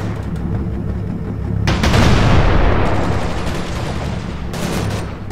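Gunfire in the Combat Mission Market Garden war game, a dense rattling fusillade with a heavy low rumble swelling in the middle, shots echoing at close to medium range over a constant background hum.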